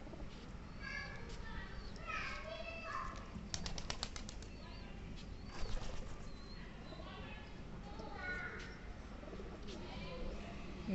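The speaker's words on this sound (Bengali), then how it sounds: "এখন প্রত্যেকটা কবুতর ঢুকতেছে" Pigeons return to their coop at dusk, with a burst of wing flapping near the middle, soft cooing and chirps around it, and someone talking quietly throughout.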